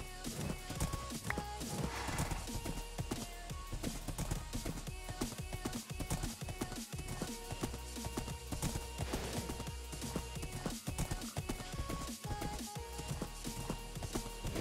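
Hooves of a horse ridden in Minecraft's GT New Horizons modpack clop steadily and quietly under background game music, a continuous rhythmic trot with no talking.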